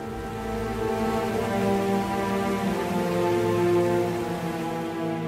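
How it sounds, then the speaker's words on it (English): A constant, gentle drizzle falls over the Atlantic rainforest, a steady even hiss of rain with no breaks or voices, close and moderately loud throughout. "A constant, gentle drizzle, nourishing an extraordinary landscape."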